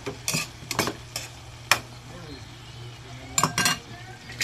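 Two pieces of fried fish drop into a pan of sautéing vegetables, giving a few sharp clinks and scrapes of a utensil against the pan over a faint sizzle, with a little talk.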